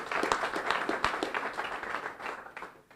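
Audience applause for a graduate, a steady wash of many hands clapping, moderately loud, gradually thinning out over a few seconds.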